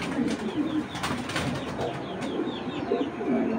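Racer pigeons coo in low, repeated rolling calls at close range, several birds overlapping against rustling and faint background noise.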